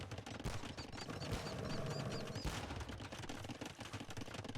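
Four cannon galleons pound a Viking castle in a medieval strategy game, a dense barrage of overlapping cannon blasts and crashing impacts rolling on continuously at moderate loudness.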